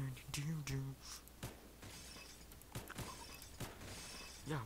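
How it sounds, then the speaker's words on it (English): Glass shattering in the Phantom Forces shooter game: several sharp breaking crashes spread across the clip, mixed with a talking voice and game background noise. "I'm breaking all the glass."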